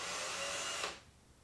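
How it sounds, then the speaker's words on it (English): A power drill pre-drilling wood whirs steadily at a high pitch for under a second, then cuts off abruptly, leaving quiet room tone. "by pre-drilling both the piece and the both pieces"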